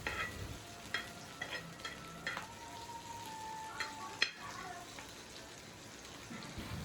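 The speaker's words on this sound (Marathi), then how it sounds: "छान असा कांदा परतवायला ठेवून दिला आहे" Onions sautéing in a pan for a spicy mutton curry, a steady soft sizzle with spatula stirring and scraping clicks throughout, faint and close, with no voices.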